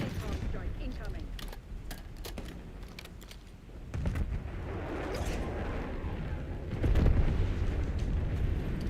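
Napalm strike explosions in Call of Duty Black Ops 6 during a Hardpoint match, heard as a dense, continuous roar of booms and crackling blasts. The rumble swells at about 4 seconds and again near 7 seconds, staying loud throughout with no voices.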